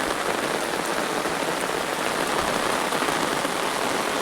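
Steady heavy rainfall pours onto crops in a field, chilli plants among them, giving a constant, dense hiss of countless drops at even loudness from start to finish, with no voices.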